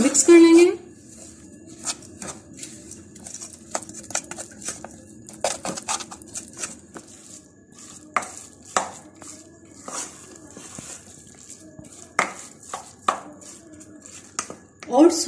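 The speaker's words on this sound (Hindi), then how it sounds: "ओट्स और कोकोनट को इसमें बहुत अच्छी तरह से मिक्स कर लिया है" Oats and desiccated coconut are stirred in a bowl, giving repeated scraping clicks and taps of a spoon against the bowl at an irregular pace, close up, with louder knocks at the start and end.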